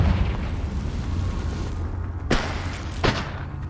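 Confringo spell explosions in Hogwarts Legacy: a heavy rumbling blast that fades out, then two sharp, loud bursts a moment apart.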